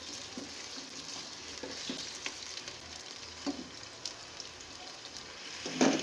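Chicken pieces fry softly in a pan of oil until golden, a faint continuous sizzle with occasional small pops and stirring clicks throughout.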